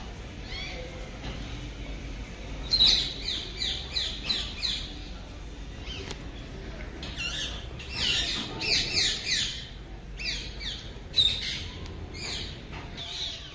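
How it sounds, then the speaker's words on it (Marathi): Parrots in the trees of the Salangpur Hanuman temple grounds let out bursts of harsh, shrill squawks in clustered runs against a quiet outdoor background, some calls near and loud, others fainter. "आणि ते पोपट वगैरे त्यांचा आवाज येतो बघा."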